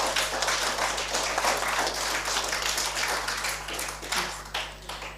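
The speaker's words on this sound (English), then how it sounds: "Let's give them a round of applause, please." Audience applause at a spelling bee competition, a steady, fairly loud round of clapping from a crowd lasting several seconds without any talk over it.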